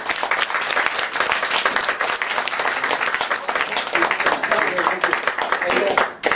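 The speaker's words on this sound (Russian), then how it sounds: "аплодисменты" An audience claps for a presenter at an eCosway product presentation, a dense, steady round of applause that holds at an even, fairly loud level before cutting off at the end.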